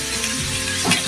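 Carrots, peas and potatoes frying in hot oil for chicken pulao give off a loud, dense sizzle that holds steady for about a second with a slight swell near the end, close by.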